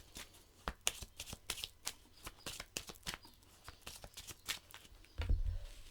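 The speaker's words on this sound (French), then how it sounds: "on mélange nos cartes" Tarot cards shuffled by hand in a quick, crisp flurry of riffling clicks, close and fairly quiet, ending with a soft thump.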